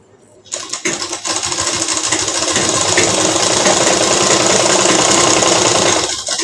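An electric sewing machine stitching a kurti starts with a click and then runs at a fast, steady whirring hum with a rapid needle rhythm, loud and close, continuing without talk.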